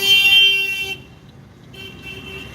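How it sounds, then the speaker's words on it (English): A car horn blares loudly near the start of a wait at a traffic signal, then quiets to a steady traffic rumble as more horns sound from around. "And you can hear the amount of honking that happens here."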